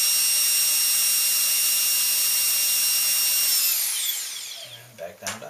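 Electric motor on a Scorpion speed controller spinning steadily with a high whine, then winding down over a couple of seconds to a low idle hum, with faint clicks near the end.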